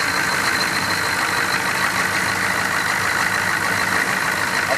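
A turbo diesel Chevrolet Suburban with a 6.5 Marine block and an HX35 turbo idles steadily, a close, even engine drone with a faint high turbo whine, no voices.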